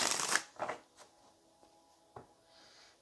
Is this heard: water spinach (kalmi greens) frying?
no